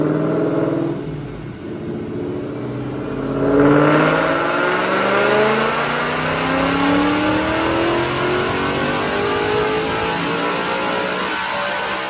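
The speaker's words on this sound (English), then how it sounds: "But right now, check out this dyno pull." A 2021 Mustang GT with a Whipple Stage 2 supercharger and long-tube headers revs hard on a DynoJet dyno, engine tone climbing steadily through a full pull, loud and close with no talking.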